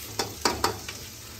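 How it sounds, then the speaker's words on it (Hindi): Tadka tempering in a pan: a soft sizzle under four sharp, separate clinks of stirring, close and moderately quiet. "तड़का लगाया जा रहा है"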